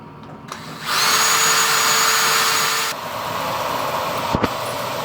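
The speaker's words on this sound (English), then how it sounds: "take it across to the milling machine and drill it there" A milling machine drills a 3mm pin hole in a vintage tractor throttle link, a loud steady high whine starting after a second and running about two seconds before dropping to a lower continuous hum, with a brief knock near the end.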